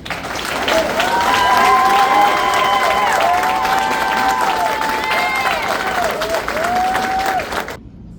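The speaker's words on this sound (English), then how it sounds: "that's another round of applause." Loud, sustained applause and cheering from a graduation audience, dense clapping with whoops and raised voices filling the room for several seconds before cutting off abruptly.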